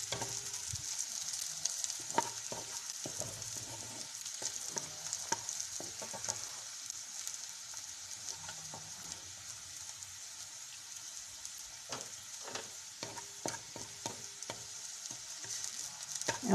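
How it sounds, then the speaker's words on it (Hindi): Onions softening in a pan give a soft continuous sizzle with scattered light crackles and occasional stirring scrapes, close but quiet, no voices. "प्याज, फिर अच्छी तरीके से इसको सॉफ्ट कर लें। प्याज को रेड नहीं करना है,"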